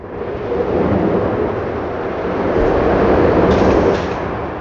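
A steady, loud rumbling roar of a roller coaster running along its track in a video game, broad and continuous with a slight swell toward the end.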